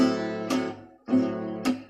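Guitar accompaniment with chords that ring on too long before being released, two sustained strummed chords each followed by a late, sharp choked-off accent, close and clear with no voices.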